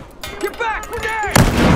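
In Battlefield Hardline, someone shouts briefly, then a grenade explodes with a sudden loud, broadband blast that rolls on to the end.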